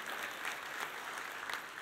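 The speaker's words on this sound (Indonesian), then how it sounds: "berikan tepuk tangan buat Tuhan Yesus" A church congregation clapping during a sermon, a short burst of dense, even applause heard from some distance, moderately faint and unbroken.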